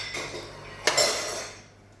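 A serving spoon clinks against a plate while a portion of home-cooked lentil stew in tomato sauce is dished up, a single bright metallic scrape-and-clink near the middle over a quiet room hum.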